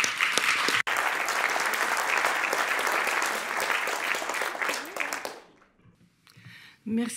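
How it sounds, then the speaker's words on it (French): Audience at a round-table event on the invasion of Ukraine breaking into sustained, dense applause that fills the room, briefly cut once, then fading out into quiet room sound and a few scattered claps. "On peut l'applaudir."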